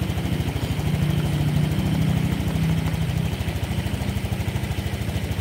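A Honda Vario scooter engine with a cold-start fault, running close by with a steady low pulsing throb that swells slightly as it is revved, continuous throughout with no voices.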